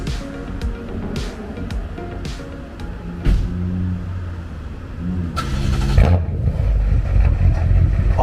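Revving of a BMW X6M with a modified exhaust, a deep engine note rising and falling in repeated blips before settling into a louder, sustained rumble, heard up close with no talking.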